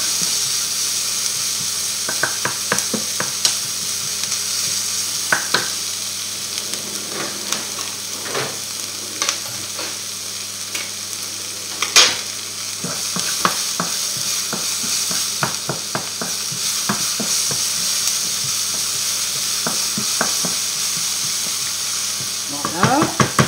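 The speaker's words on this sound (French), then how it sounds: "On fait bien blanchir notre ail et nos oignons." Garlic and onions sautéing in a pan, a continuous sizzle broken by frequent spoon scrapes and knocks, loud and near, with no talk.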